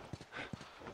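Horse hooves clip-clop in the video game The Last of Us, two distinct hoof strikes evenly spaced and fairly close, with faint background sound between them.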